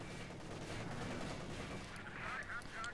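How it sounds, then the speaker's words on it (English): Machine guns rattling in a Company of Heroes 2 battle, a dense, continuous burst of fairly distant automatic fire under battle din, with faint voices mixed in. "A lot of machine guns there firing"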